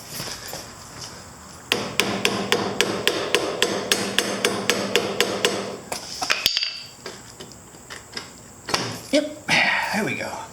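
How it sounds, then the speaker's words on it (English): A rubber mallet strikes a 2009 Genuine Buddy 125 scooter part repeatedly in a quick, even series of about twenty dull thuds, then a pause, followed by a few more blows and a voice. "let me get my rubber hammer"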